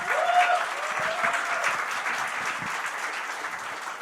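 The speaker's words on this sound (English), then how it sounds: "That is the perfect example of lukewarm applause" Audience applause at a music chat session, clapping steadily for several seconds at moderate volume, a dense even patter without cheers, fading slightly toward the end.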